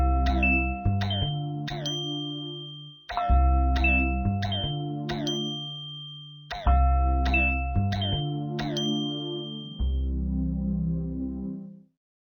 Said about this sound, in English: You've replaced all the missing chimes. Now, take it from the top.